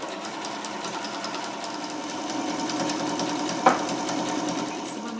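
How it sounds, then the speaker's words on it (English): A sewing machine stitches a zigzag seam, whirring steadily with a fast rhythmic needle chatter and one brief knock near the end, close and fairly loud. "We're going to put our sewing machines on zigzag"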